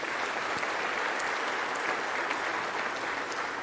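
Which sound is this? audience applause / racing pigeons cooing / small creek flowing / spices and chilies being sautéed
audience applause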